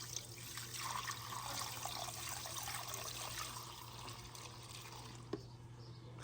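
Water poured steadily over a potted orchid, a continuous soft splashing and trickling that runs for several seconds at moderate loudness, ending with a small tap near the close, with a low hum underneath.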